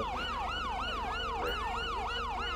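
Police siren in GTA 5, a loud close wailing tone sweeping rapidly up and down in steady repeating cycles, heard alone without voices.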